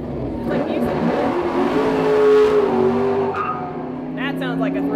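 A GM 350 V8 car engine revs hard in a NASCAR-like roar, rising and falling with possible tire squeal, loud and continuous beneath people talking over it.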